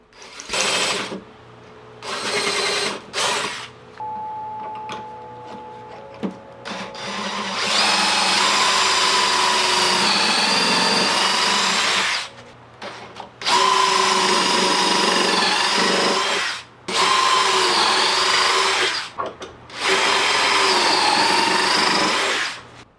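A power drill bores pocket holes and drives pocket-hole screws into wood for an entryway table box, with long loud whirring runs broken by short stops and a few brief bursts at the start.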